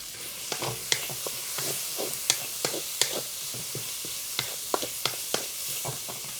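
Sliced onions sizzle steadily in hot oil in a pan for a soya chunks curry, with a continuous frying hiss broken by frequent sharp crackles and stirring clicks, close and fairly loud with no talking.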